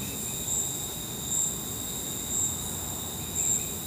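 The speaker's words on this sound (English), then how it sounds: "they're little bitty baby frogs that make that noise" Small baby frogs calling at night outdoors, a steady high-pitched trilling chorus with a louder pulse roughly every second, carrying over a constant low background rumble.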